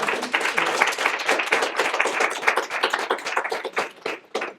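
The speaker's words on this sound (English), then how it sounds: "give one more round of applause" An audience at a career conversation event with Kara Swisher claps in a dense, sustained burst of applause, close and lively, tapering off just before the end.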